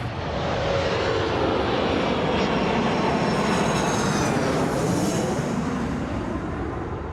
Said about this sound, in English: We're now ready for departure and we'll be taxiing shortly.